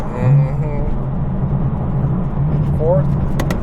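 A straight-piped BMW with a DCT gearbox shifts gear on the highway, a loud engine drone dipping and rising with each change while people talk over it.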